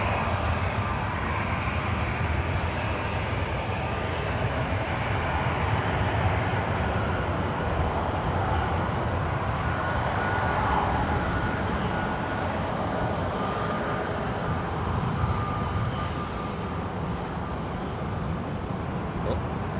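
An American airliner on final approach to runway 28 right at San Francisco International Airport, a steady broadband jet roar holding loud and constant throughout, with radio chatter faintly under it.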